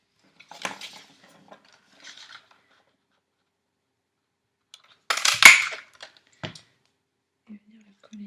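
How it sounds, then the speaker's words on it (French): A paper punch bites through scrapbook paper with one sharp, close crunch and clack midway. Soft rustles and small handling taps of paper come before and after it in an otherwise quiet room. "Je voulais utiliser cette perforatrice là."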